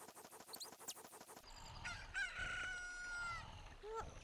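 A rooster crows at daybreak in The Legend of Zelda: Ocarina of Time, a drawn-out rising call after a rhythmic game tune that plays over the first second and a half.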